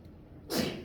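A single short sneeze bursts out suddenly after a quiet moment, close and fairly loud.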